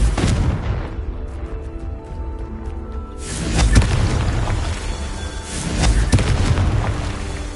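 Repeated Confringo spell explosions from the Hogwarts Legacy video game: booming blasts with rumbling tails at intervals, loud and close, over a continuous low background roar, with no talking.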